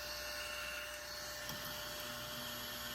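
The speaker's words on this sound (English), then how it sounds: "This is a glitter vacuum." A small battery-powered glitter vacuum for tumbler making runs with a thin, steady electric whine and faint motor hum, close and constant throughout.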